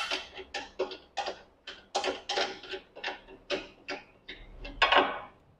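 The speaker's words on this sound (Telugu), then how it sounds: "ఇక్కడ స్క్రూని చూసారా, ఈ స్క్రూ కంప్లీట్గా రిమూవ్ చేసేయండి." A screw is being removed from the logo frame of an embroidery machine, heard as a close series of sharp, rhythmic metallic clicks and creaks, about a dozen in steady succession, with no talk.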